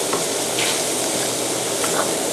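Vegetables and cooked green peas are tossed in a hot pan, giving a loud, steady, close sizzle with faint stirring scrapes.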